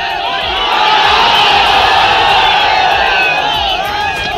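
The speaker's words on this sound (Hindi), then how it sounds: "सिवान में जिस समय भीड़ ने तेजस्वी के लिए शोर किया" A large crowd at a political rally in Siwan cheers and shouts for Tejashwi, a dense, loud roar of many voices with whoops and calls rising over the massed noise throughout.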